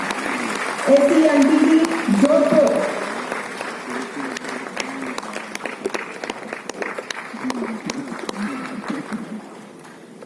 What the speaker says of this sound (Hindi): जोरदार तालियों से स्वागत कीजिए श्री उत्पल कुमार त्रिपाठी